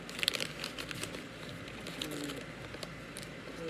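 Tissue paper crinkling softly as a small potted plant is unwrapped from its shipping package, quiet close rustles and crackles with no talking.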